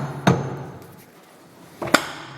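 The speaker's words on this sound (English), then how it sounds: "Let's use our little bopper again to seat this drill." Two sharp taps of a small mallet striking metal while seating a drill, about a second and a half apart, close by with a quiet background between them.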